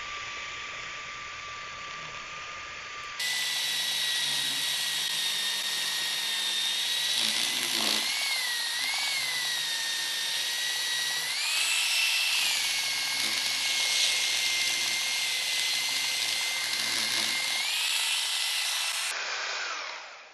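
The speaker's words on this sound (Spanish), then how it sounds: "Ahora tomo la lijadora, conecto la aspiradora y empiezo a lijar" An electric sander whirs steadily with a vacuum drawing air alongside while sanding a mirror frame, a constant high-pitched motor drone that shifts slightly in pitch as it works.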